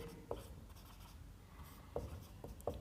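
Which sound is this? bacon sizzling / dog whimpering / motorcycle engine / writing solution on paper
writing solution on paper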